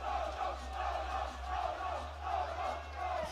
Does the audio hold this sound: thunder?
no